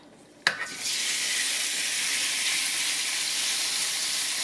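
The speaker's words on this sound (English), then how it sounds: "So once your pan has came to a heat, let's go ahead and add our shrimp." Raw shrimp dropped into hot olive oil in a skillet for Mexican-style shrimp: a sudden loud burst of sizzling that settles into a steady, close, hissing fry with no talk.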